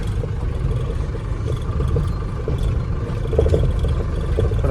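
A truck engine rumbles steadily and low as the driver pulls out on a run from Katraj to Talegaon, with a constant close drone and some light clatter swelling slightly near the end.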